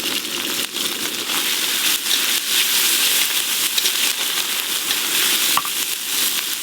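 Chopped tomato and green chili frying in oil with turmeric and ginger paste in a kadai, giving a steady loud sizzle with occasional stirring scrapes throughout.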